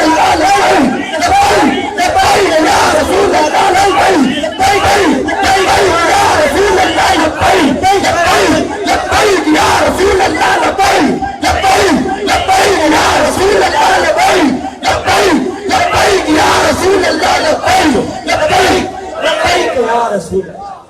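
Large crowd at a religious political rally chanting slogans in loud, rhythmic call-and-response bursts, a roaring massed chorus that repeats steadily with brief pauses between shouts.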